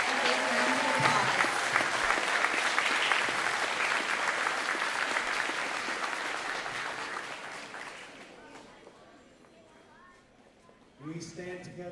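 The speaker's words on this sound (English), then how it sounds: "Help me by giving all of our men a Palm Pointe and a big round of applause." A school assembly audience at a K-8 school gives a big round of applause for the male staff. The loud sustained clapping thins out in the last few seconds as a voice begins speaking.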